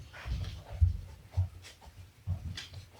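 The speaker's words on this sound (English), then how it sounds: "Little growling going on." Dogs under a table give low, soft growls in short intermittent rumbles, separated by quiet gaps.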